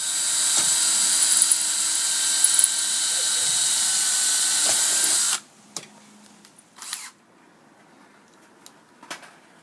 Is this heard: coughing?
no